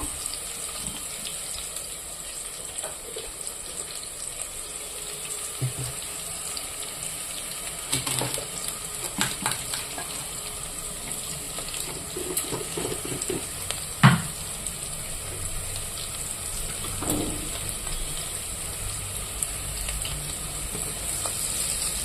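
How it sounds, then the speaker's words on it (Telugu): Vegetables fry in a pan for vegetable rice, a steady soft sizzle running throughout with occasional louder pops and stirring clatters, no voices. "ఇవైతే వేగుతున్నాయి కదా ఫ్రెండ్స్"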